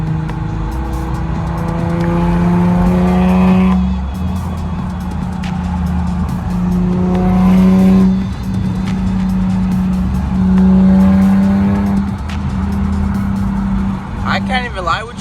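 An Infiniti G37x fitted with a Soho Motorsports 3-inch single exit exhaust revs and pulls through rising gear sweeps with the windows down, engine drone loud and near, broken by shifts and a brief squeal near the end.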